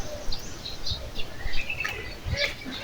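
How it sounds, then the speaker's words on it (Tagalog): Large birds at a crocodile farm in Davao City give scattered chirps and calls over a soft outdoor background, several short cries close by, with a faint coo and a brief flutter. "Ayan, malalaking ibon siya."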